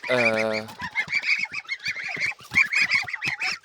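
White Poitou geese honk loudly and repeatedly in a noisy, overlapping chorus, close by, after a brief opening call.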